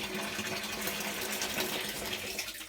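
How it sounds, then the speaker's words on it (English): Hot water from a kettle pours steadily into a plastic fermenter bucket while brewing a pale ale beer kit, a continuous close splashing rush that holds level throughout and thins slightly at the very end. "last of the kettle water going in"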